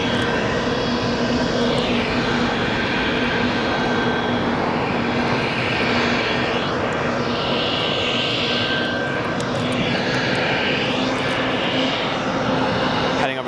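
Airliner in heritage livery rolling along a runway at O'Hare, loud, close engine roar with a sustained whine and phasing, sweeping tones as it moves, steady from start to end.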